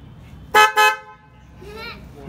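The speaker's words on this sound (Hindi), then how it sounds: "स्टार्ट करते हैं हॉर्न की साउंड कैसी है।" A Minda horn fitted on a homemade Kawasaki Ninja H2 motorcycle gives two short, loud, close honks in quick succession, followed by someone speaking.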